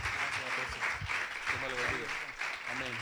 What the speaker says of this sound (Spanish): Denle su ofrenda de palmas al Rey.